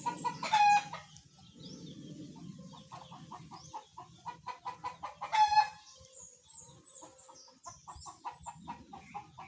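Hens cluck and a rooster crows among newly hatched chicks on a farm, with repeated close clucking calls, bursts of crowing and faint high peeping throughout.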